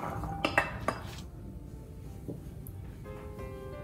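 Boiled chickpeas go into a whisked dressing in a bowl, with a few close clinks of utensil against dish early on, then quieter faint kitchen handling.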